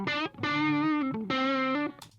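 Re-amped guitar through a Fender amplifier, miked on the seam of the speaker dust cap, giving a dry tone: three sustained, harmonically rich notes played close and loud, ending in a brief bright pick scrape, no talk.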